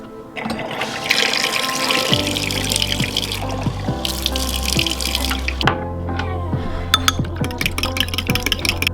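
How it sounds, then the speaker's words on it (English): Water is poured into a bowl of egg mixture for an omelet, splashing and trickling steadily in bursts that are close and clear, with no talking. "So we're gonna add our water, then whisk it up, then add it to our pan that we're already preheating right here."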